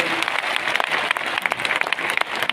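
Applause from an audience at a business event at Yamuna Sports Complex, Delhi, a dense, steady clapping that stays loud for the full stretch with no voices on top.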